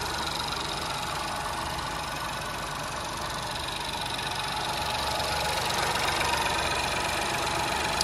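A Ford Focus 1.0 EcoBoost three-cylinder petrol engine idles steadily nearby with no engine cover, quiet and even, with a faint mechanical ticking beneath the hum.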